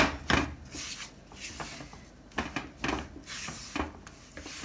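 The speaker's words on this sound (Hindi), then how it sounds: "मैं हल्का सा स्पैचुला के साथ इसको प्रेस करते हुए जो है ना वो भून रही हूँ" Gram flour roasting in ghee in a pan while a spatula presses and scrapes it, giving soft, irregular scraping strokes close by, no voices.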